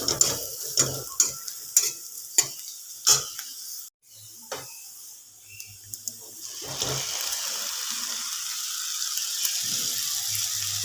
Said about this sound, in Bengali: এরপর এতে আমি চাউমিনটাকে মিশিয়ে দেব, সেদ্ধ করা চাউটা